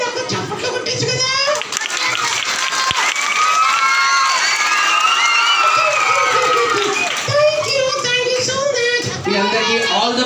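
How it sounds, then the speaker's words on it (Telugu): A roomful of children cheer, shout and whoop loudly and continuously at a church Vacation Bible School puppet show, with occasional scattered clapping mixed into the din. "పిల్లలు నాకు చప్పట్లు కొట్టచ్చు కదా."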